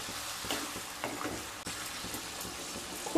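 Pui mituli chorchori, a Bengali vegetable dish cooked with mustard paste and slit green chillies, sizzles loudly in a pan while a spoon stirs through it in repeated scraping strokes, close and continuous, with no one speaking.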